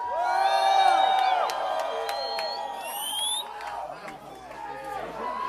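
A crowd at a hardstyle concert in Los Angeles cheers, whoops and screams, loud and dense, with high shrill yells rising over the roar.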